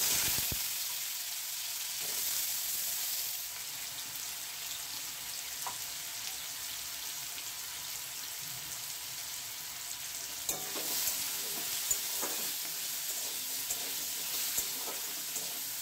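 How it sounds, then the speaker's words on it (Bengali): Steady sizzling of potatoes frying in a little white cooking oil, a continuous crackling hiss with occasional scrapes of stirring, no voices. "এটাতে অল্প একটু 2 টেবিল চামচ সাদা তেল দিয়ে দিলাম। বন্ধুরা, এতে আমি আলুগুলো দিয়ে একটু ভেজে নিচ্ছি।"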